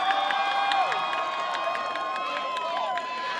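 An audience at the Miss Salouva 2019 pageant cheers and applauds, with a crowd roar, scattered shouts and claps running continuously; a voice may be mixed in.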